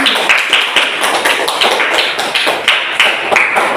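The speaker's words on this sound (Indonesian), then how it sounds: "Tepuk tangan untuk kelompok 2." A class of students claps together for a group, a dense, steady patter of hand claps with sharp rhythmic accents, loud and close, with no talking.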